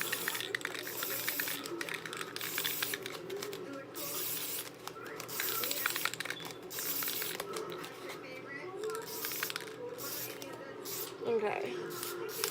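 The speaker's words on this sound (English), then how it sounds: "So I'm just going to spray the fabric all the way down, and that way it'll give me a good seal." Spray can hissing as adhesive or sealant is sprayed down fabric on a craft tumbler, a steady close rasping spray with intermittent bursts, under light background noise.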